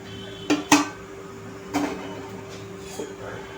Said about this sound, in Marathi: आता मी ही दळलेली पिठी साखर ह्याच्यात टाकत आहे